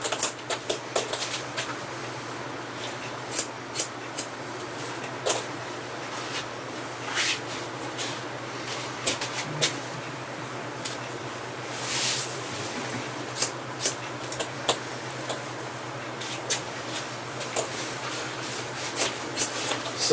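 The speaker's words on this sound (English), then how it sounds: "Cut some of this off." Scissors snipping hair during a haircut, with soft, sparse, irregular snips and light rustling close by against a steady background hum.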